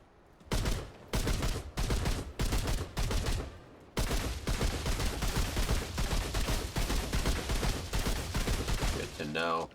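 A suppressed small-caliber automatic pistol fires in Remnant II, first in several short bursts with gaps, then in one long sustained run of rapid shots, loud and close.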